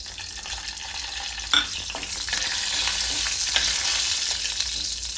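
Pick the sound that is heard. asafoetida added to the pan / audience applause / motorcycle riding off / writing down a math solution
asafoetida added to the pan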